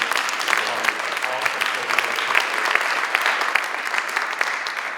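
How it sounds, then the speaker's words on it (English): At a university chancellor's address, an audience gives a warm round of applause, broad continuous clapping from many people lasting several seconds, with a few murmured voices underneath. "Give him a big round of applause for that."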